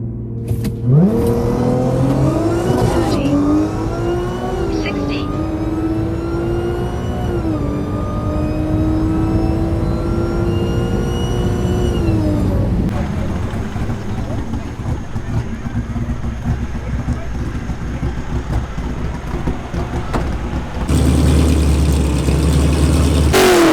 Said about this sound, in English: Cyber orange Mustang GT with a Roush blower